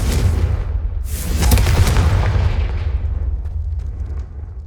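A Confringo spell explosion in the video game Hogwarts Legacy: one heavy booming blast with a crackling burst that swells, then rumbles and fades over several seconds, with no talk.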